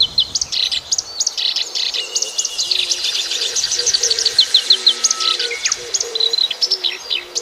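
Birds sing in an animated children's story, a busy chorus of bright chirps and tweets close by, overlapping continuously with a faint low cooing underneath.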